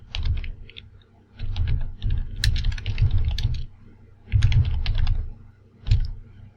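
Several bursts of quick keystrokes on a computer keyboard, up close and fairly loud, with short pauses between runs while a document name is typed into a Windows search, no voice heard.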